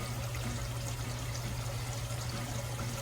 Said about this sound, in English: This is our first cup of water